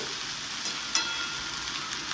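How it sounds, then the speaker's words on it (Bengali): Steamed beetroot and carrot frying in a pan, a steady close sizzle with soft stirring and one brief scrape, no voices. "একটু ভাজা ভাজা করে নেব।"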